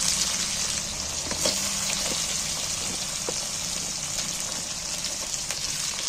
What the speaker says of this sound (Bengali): যে পেঁয়াজগুলো তুলে দিয়েছি, পেঁয়াজগুলোকে এবার তেলের মধ্যে ভেজে নেব।